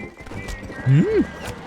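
Horse in the Western video game Red Dead Redemption gives a short, loud rising-and-falling whinny, lasting about half a second, over a low background of game ambience and faint hoof clatter.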